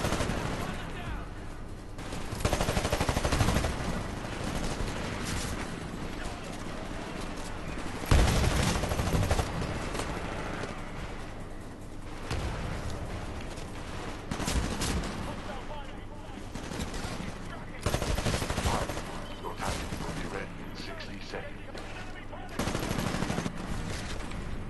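Gunfire from a shotgun and other weapons in a Titanfall match, with repeated bursts and shots over a constant battle din and a voice talking now and then.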